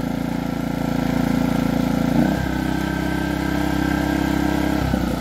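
A Heomaito dual fuel propane and gas inverter generator engine running steadily up close with a droning hum, its pitch shifting about two seconds in as it begins to wind down.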